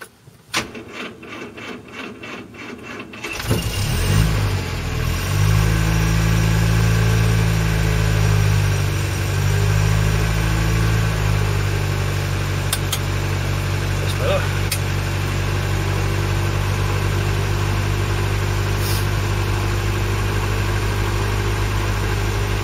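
A Land Rover Series 3 is started on a freezing morning: a few seconds of handling noise, then the engine cranks and catches, settling into a steady, loud, close idle that runs on alone.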